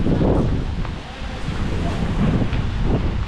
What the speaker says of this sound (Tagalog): Nakakatakot na rito, lakas ng hangin mga bele.